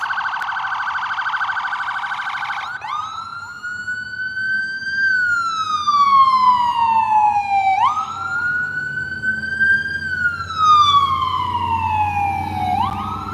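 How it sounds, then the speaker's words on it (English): An ambulance siren wails past on a downtown Clearwater street during a protest, loud and close, its rising and falling tone cycling several times with no talking. "ambulance going by"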